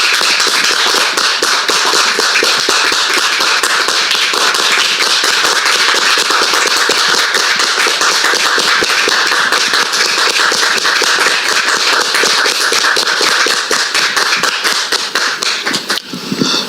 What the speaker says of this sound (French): on la reçoit très cher public avec des applaudissements